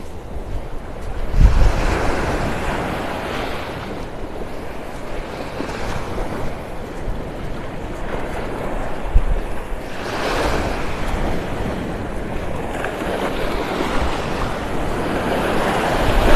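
Ocean waves of an incoming tide wash steadily onto a beach in North Naples, Florida, a continuous rolling surf with gusts of wind buffeting the microphone throughout.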